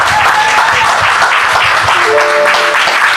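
A wedding congregation bursts into loud, sustained applause, dense clapping filling the room close by, with faint voices beneath it.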